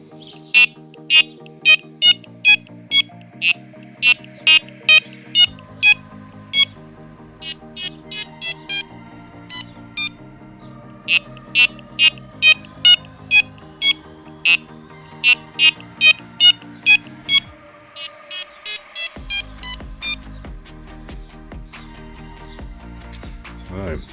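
A series of sharp electronic beeping tones from Sonik SKS2 fishing bite alarms in quick bursts, changing pitch and rhythm from one pattern to the next, loud and alone.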